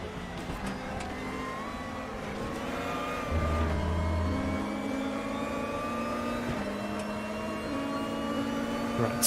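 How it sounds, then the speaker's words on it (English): A race car in RaceRoom Racing Experience at Bilster Berg gives a steady whining engine note with transmission noise, revving and shifting pitch throughout, loud and continuous with no talk. "A lot of whine to the engine, yes."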